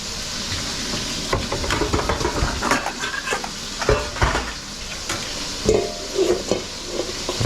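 Steak browns in a hot greased pan for shredded beef, a steady loud sizzle and crackle with occasional spatula stirs and clinks against the pan throughout.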